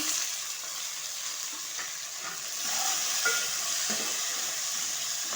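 Onion pieces fry in a pan of chicken curry with a steady, soft sizzle, broken by a few light scrapes of stirring and no talking.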